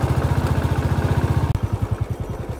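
A motorcycle engine runs close by on a rural hill road in Lamjung, Nepal, with a rapid, regular low thumping beat that briefly stutters and then continues slightly slower.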